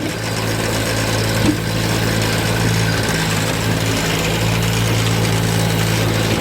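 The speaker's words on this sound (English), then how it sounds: "when your cut is done, you hit this trigger on the back, and that starts the splitting cycle" A JAPA 405 firewood processor runs with a steady, loud engine drone that holds constant throughout, with a brief knock near the start and no voices.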